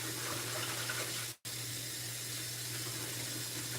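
Tap water running steadily into a sink while soaping something, a continuous close hiss and splash that cuts out for a split second and resumes, with no talking.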